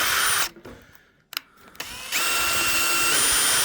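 A cordless screwdriver whines steadily as it spins to sand a meteorite, pausing briefly for a few clicks and knocks before revving back up to a loud continuous hum.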